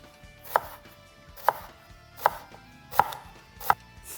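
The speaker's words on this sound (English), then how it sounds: "Now I'm gonna slice this onion before my sauce erupts. I'm just gonna go for thin strips." A knife slices an onion into thin strips on a cutting board, five separate crisp chops spaced roughly a second apart, close and clear with no talking.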